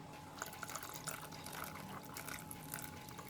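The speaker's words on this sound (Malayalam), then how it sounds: "നമുക്ക് ഇതിനകത്തോട്ട് തിളപ്പിച്ച് വെച്ചിരിക്കുന്ന പാലും ജലാറ്റിനും കൂടെയുള്ള മിക്സ് ഒഴിച്ചു കൊടുക്കാം." A cooled mix of boiled milk and gelatin streams into a tender coconut pudding mixture, a soft, steady liquid pour with faint drips and splashes, quiet and continuous with no talk.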